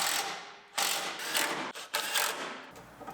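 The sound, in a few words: ratchet tightening bracket bolts on Honda Civic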